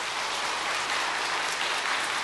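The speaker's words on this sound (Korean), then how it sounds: "성도님들 박수로 환영하며 축복하겠습니다." Church congregation clapping to welcome new members at a Sunday service, a steady, even patter of many hands at moderate volume with no voices over it.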